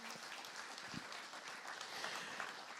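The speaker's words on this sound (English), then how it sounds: "I think they deserve a round of applause" Audience applause at a Southern 100 launch event honouring a Blackford Financial Services club, a steady wash of clapping from a gathered crowd held for a few seconds at a fairly distant, even level.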